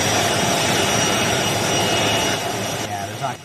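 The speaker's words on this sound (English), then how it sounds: "All you're gonna hear is the jet engines roar." Jet engines roar loudly and steadily on an airport tarmac, a dense continuous blast with a thin whine on top that eases slightly toward the end.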